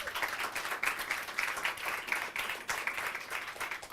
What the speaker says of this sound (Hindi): ताली मारो उसको।